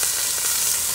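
Onions and chanterelles fry in a Dutch oven for a venison goulash, giving a dense, even sizzle that carries on without a break through the brief moment, with no talking.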